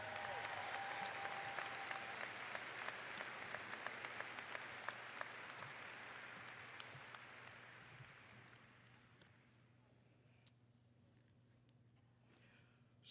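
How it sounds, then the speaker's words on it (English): A graduation crowd at a 2025 high school ceremony gives a final round of applause, loud and sustained at first, then thinning and fading to scattered claps near the end. "Let's give them one last round of applause."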